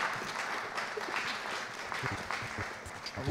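Audience applause at a live Occitan-language cultural show in Bordeaux, steady dense clapping from a crowd filling the whole stretch at moderate level, with no clear voices on top.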